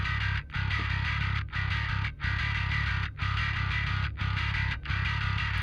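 A plain bass tone from a studio mix plays with all effects switched off, a steady, loud, buzzing line cut into repeated phrases by short gaps, with no talking over it.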